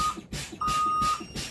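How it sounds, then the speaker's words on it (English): A truck's air brake low-pressure warning alarm sounds as the brake pedal is pumped, giving a loud, steady electronic beep in repeated pulses with short gaps. "there's an audible alarm, and there's my light telling me that my pressure is low"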